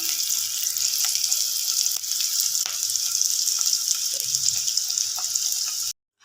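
Meat browning in ghee with tomato juice in a pan, a steady close sizzle and crackle of frying with occasional stirring clicks, continuous until it cuts off abruptly near the end.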